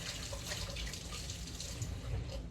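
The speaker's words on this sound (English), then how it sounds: "I still need to wash my hands." Kitchen sink tap running steadily while hands are washed, a continuous close hiss of flowing water with slight splashing, no voices.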